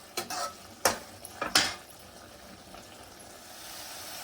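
Tamarind gojju paste simmers in a pan while a spoon stirs and scrapes it in three or four sharp, separate strokes over a faint, quiet bubbling background.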